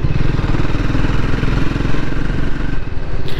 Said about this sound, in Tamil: எக்ஸாஸ்ட் நோட்டுமே வந்து பார்த்திங்கன்னா ரொம்பவே நல்லாயிருக்கு.